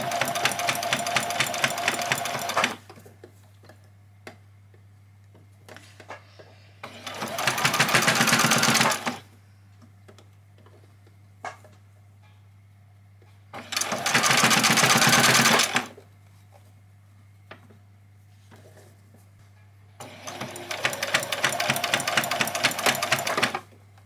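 A sewing machine stitches stretchy fabric for a pair of fairy wings in three loud, steady bursts of a few seconds each, separated by quiet pauses with a constant low hum underneath.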